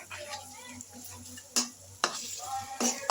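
Horn fish curry sizzling in a pan as it is stirred, with several sharp clanks of the spoon against the pan over a faint steady hum.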